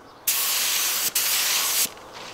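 A paint sprayer shoots pearl paint onto a converted school bus, a loud, close, steady hiss in two bursts separated by a brief break.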